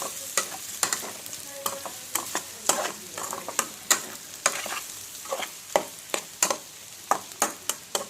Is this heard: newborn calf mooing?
no